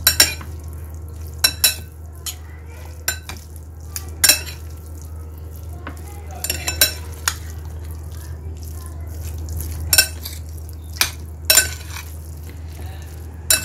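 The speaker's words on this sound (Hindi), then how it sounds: "इस तरह से इसको मिक्स कर देंगे इन सबको" A spoon stirs ketchup through a chicken and vegetable sandwich filling in a bowl, giving sharp clinks and scrapes against the dish at irregular intervals over a low steady hum, close and without talk.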